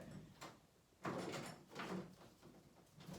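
A household door used as an exercise anchor during an upper-body warmup rattles and shifts in a few soft, close bumps and thuds against a quiet room.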